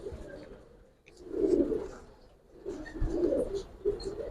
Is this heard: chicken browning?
no